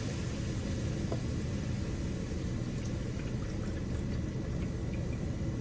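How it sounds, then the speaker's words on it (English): Broth poured from a cup into a pot for kimchi jjigae, a soft continuous liquid pour under a low rumbling background, steady throughout with no talking. "We're also gonna add our broth. Just 1 cup."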